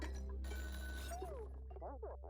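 A telephone rings in the Oxygen Not Included video game with a short electronic trill, mixed with game sound effects and background tones.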